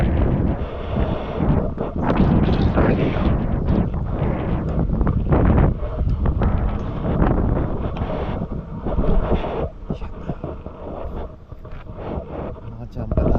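Strong wind buffeting the microphone while out fishing on the water, loud gusty rumbling that rises and falls throughout, with someone talking over it.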